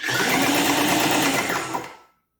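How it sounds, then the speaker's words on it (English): Ryobi paint sprayer, bought used, running at pressure with the trigger pulled, giving a loud steady buzzing motor drone close up that holds for about two seconds and then cuts off abruptly into silence. "It's on, it's pumped up to pressure now. I mean, it's pull the trigger. Watch that thing blow everywhere."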